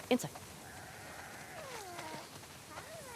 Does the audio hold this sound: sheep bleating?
yes